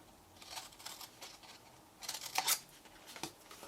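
Scissors snipping through card to make a fold-out votive candle holder, a few quiet crisp cuts in irregular bursts, close up with no talk.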